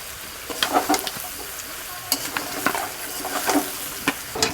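Turmeric, cumin, coriander, chili and salt are stirred and fried in a pan for a katla fish curry, a soft sizzle broken by irregular scraping and spoon knocks against the pan, up close with no talk.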